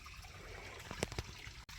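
Stream water trickling and splashing as someone wades in on a warm day, a steady low wash with a few brief louder splashes near the middle, close by and alone without talk.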